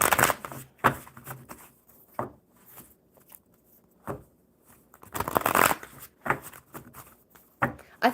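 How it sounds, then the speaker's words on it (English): Playing cards are shuffled in repeated riffling bursts, close and fairly soft, with quiet gaps between them and no talk over the shuffling. "One more shuffle for Thatch."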